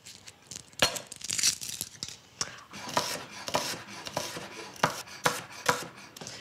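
A knife chops red onion on a board in irregular, crisp strokes, some single and some in quick bursts, close and fairly loud with no talking.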